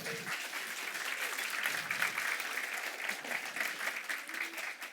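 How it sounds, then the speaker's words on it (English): Sustained applause from a conference audience at a keynote on youth work, a dense, continuous patter of many hands at moderate level throughout with no break. "maybe big applause to Aleksandra"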